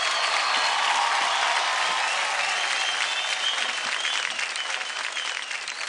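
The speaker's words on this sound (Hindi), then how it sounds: "जोरदार तालियां।" Loud, sustained applause fills a television singing competition studio. The dense clapping holds steady for six seconds and fades slightly near the end.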